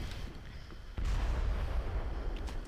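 A grenade blast in Red Faction 2 thumps in partway through, loud and close, over a constant backdrop of gunfire and rumbling battle noise, with no voices.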